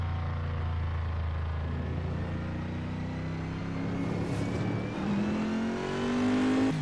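Race car engine at Circuit of the Americas in Assetto Corsa, a steady loud drone that climbs in pitch as it accelerates across the start-finish line, with no talking.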